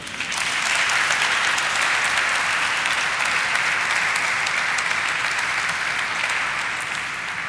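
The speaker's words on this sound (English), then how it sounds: "I just want you guys to applaud once more for them" Sustained audience applause at a stock market listing ceremony, a thick, steady roar of clapping that swells in and holds for several seconds before easing slightly.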